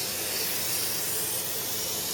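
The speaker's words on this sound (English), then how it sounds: "I'm just kind of liberally spraying this lubricant" Lubricant sprayed from an aerosol can, a steady close, loud hiss lasting the whole moment with no pauses.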